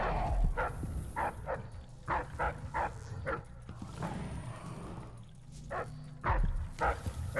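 A dog barks repeatedly in the video game Dishonored 2, a series of loud, close, rhythmic yips and barks with brief pauses, set against game ambience.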